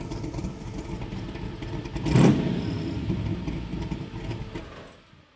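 A 1963 Chevrolet Corvette Split Window Sting Ray engine runs steadily close by, with a brief louder rev in the middle before the sound fades out toward the end.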